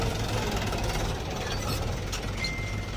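A Mahindra 275 tractor engine idling nearby, a steady low chugging rumble with a rapid knocking beat, continuous and fairly loud.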